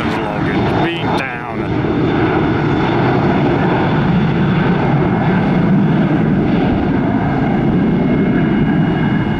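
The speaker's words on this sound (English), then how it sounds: "That's auxiliary power unit, APU." An aircraft's auxiliary power unit runs loud and steady at Tampa airport, a constant close whine and roar, with a brief burst of radio-like noise at the start.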